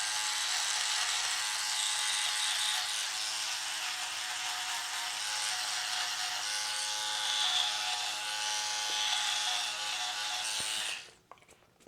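Philips OneBlade electric shaver running while shaving, a steady loud high-pitched buzz that holds for about eleven seconds before cutting off abruptly.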